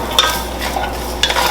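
Carrots, celery and onion sweat in a pot with a steady, soft sizzle, close and alone, with a couple of brief clinks of a spoon stirring against the pot.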